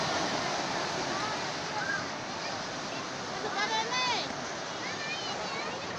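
Steady broadband rush of surf washing on the shore at Pulau Merah beach, Banyuwangi, with bursts of chatter and voices in the background throughout.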